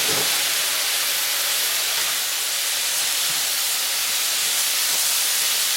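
Stir-fry noodles with asparagus and broccoli sizzling hard in a hot pan after sauce goes in, a loud, steady hiss that holds evenly throughout with no voices over it.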